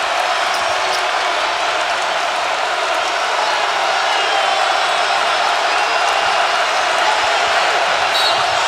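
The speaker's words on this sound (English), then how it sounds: "They can hear the crowd in Kentucky right now." Steady roar of a college basketball arena crowd at an Ohio State versus Cincinnati game, a continuous loud wash of cheering with no breaks, no voices standing out clearly.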